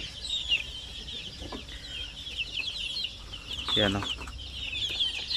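Pure Zampen native chickens, 45 days old, clucking in a farm pen, with soft repeated clucks and a louder burst near the end under quiet background noise, and a brief spoken word in the middle.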